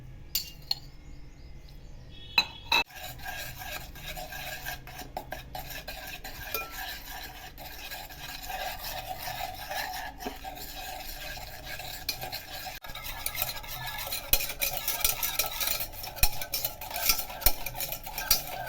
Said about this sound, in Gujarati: હલાવતા જવું, બરાબર મિક્સ થઈ જાય ત્યાં સુધી